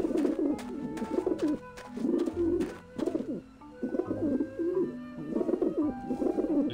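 Pigeons in the video game Grim Fandango, repeated soft throaty cooing in bursts with brief pauses between, close and clear, with a few wing-flutter-like clicks.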